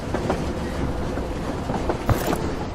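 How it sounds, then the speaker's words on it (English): Diesel train locomotive in the game Void Train, rolling with a steady rumbling clickety-clack of wheels on rails and a few sharper knocks. "into a large and beautiful diesel or Tesla locomotive."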